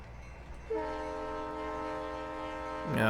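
A train horn sounds one long, steady, loud chord as a train passes in a train simulator game, with rumbling rail noise underneath and a brief clatter at the end.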